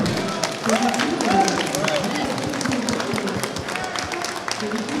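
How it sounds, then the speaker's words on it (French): An audience applauds the winners of a gaming competition on an event stage, a steady wash of clapping and crowd noise lasting throughout, with voices speaking over it. "et puis on peut applaudir nos gagnants"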